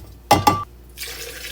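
Water from a one-cup measure splashes into a blender jar already holding blueberries, strawberries and raspberries, two quick close splashes followed by a softer, steady trickle.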